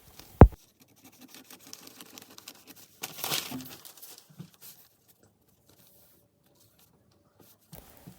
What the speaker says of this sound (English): Now we're going to cut this out from the rest of our pattern.